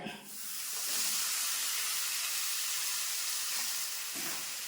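Mango pieces tipped into hot sesame oil with chili powder for a kadumanga pickle, setting off a loud, continuous hissing sizzle that rises within the first second and holds steady throughout, close up and without talk.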